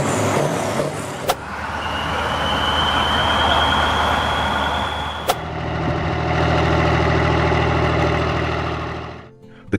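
A Kverneland K700 tractor engine runs steadily and loudly, a low droning rumble with a sustained whine, broken by two sharp clicks before the tone shifts slightly for the rest of the run.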